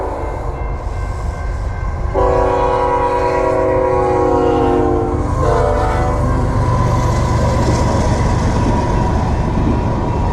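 A loud freight train rumbles past close by, its horn blaring for several seconds amid steady rolling and clattering wheels.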